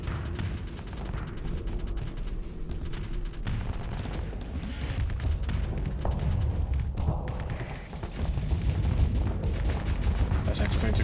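Ship weapons fire in Starsector space combat, with rapid bursts of shots and booming impacts piling up over a dense rumbling background, growing louder toward the end.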